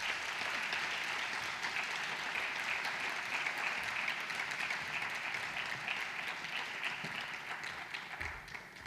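A traditional costume festival audience in a hall applauds performers, a steady, even roar of many hands clapping at moderate distance that holds throughout and thins slightly at the end.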